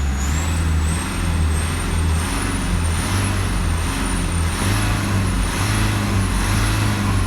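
Nissan Terra with a twin-turbo 2.3 engine and an aftermarket exhaust, its engine holding a loud, steady, deep rumble throughout, close to the listener, with a faint high whine above it.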